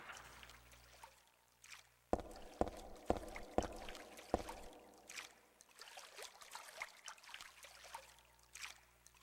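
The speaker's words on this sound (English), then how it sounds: "Do I hear running water?" Running water in Silent Hill 3 underground passage, a faint trickling and dribbling flow behind a series of five sharp metallic clanks, quiet and distant.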